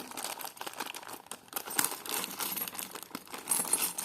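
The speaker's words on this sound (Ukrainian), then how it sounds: "Відкриваємо наступний наш пакетик." Plastic packaging crinkles and rustles continuously as a small packet of vintage jewellery pendants is opened, close and fairly loud, with sharper crackles throughout.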